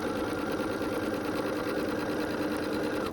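Steady, fast mechanical whirr of a sewing machine chain piecing quilt fabric, loud and close, running continuously with no speech.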